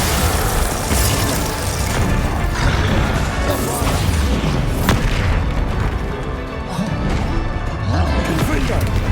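Spell blasts and explosions crash continuously in a Hogwarts Legacy battle, loud booms and smashing impacts layered densely with combat effects while a voice shouts spell names.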